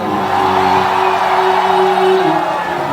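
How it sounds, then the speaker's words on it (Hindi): A large crowd at a Bhojpuri stage event with Khesari and Pawan Singh, loud and close, roars and whoops in a sustained wall of cheering and clapping that holds steady throughout. "उनके लिए जोरदार हल्ला करके ताली बजाइए।"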